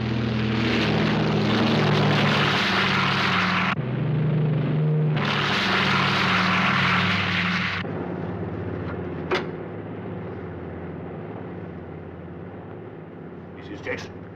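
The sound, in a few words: propeller airplane in flight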